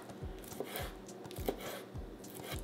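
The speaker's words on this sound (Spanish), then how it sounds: "Ahora los vamos a cortar en pedacitos pequeños" Peeled, rinsed shrimp chopped into small pieces with a knife on a cutting board for shrimp tacos: a quick, even run of close knife taps repeating steadily throughout.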